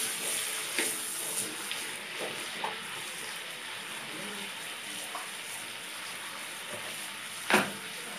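A curry fries in oil in a pan, giving a soft, steady sizzle with occasional light clinks and scrapes from stirring.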